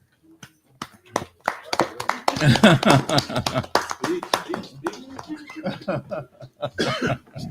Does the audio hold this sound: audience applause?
yes